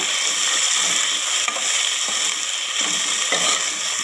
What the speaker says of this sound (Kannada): ಹಸಿ ವಾಸನೆ ಹೋಗೋವರೆಗೂ ಇದನ್ನು ಫ್ರೈ ಮಾಡಬೇಕು